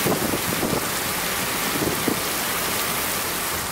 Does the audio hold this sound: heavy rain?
yes